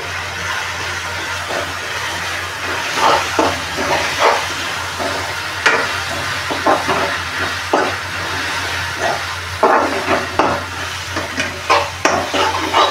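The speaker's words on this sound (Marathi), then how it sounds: "तेलावर चांगला मसाला परतून घ्यायचा." Masala with turmeric, garam masala and coriander sizzles in hot oil alongside oysters, with a spatula scraping and stirring through it in repeated irregular strokes over a steady frying hiss.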